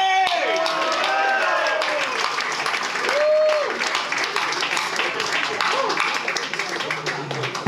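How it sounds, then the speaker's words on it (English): Concert crowd applause at Legend Club in Milan, a dense roar of clapping with whistles and scattered cheering shouts, loud and continuous for several seconds. "So give a big, warm round of applause for all the support bands and the Legend Club."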